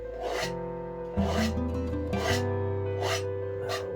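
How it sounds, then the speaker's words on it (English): A palette knife scrapes wet oil paint off a seascape canvas in a series of short, rasping strokes, about one per second, over steady background music. "I'm just going to scrape off some of what we've put up there."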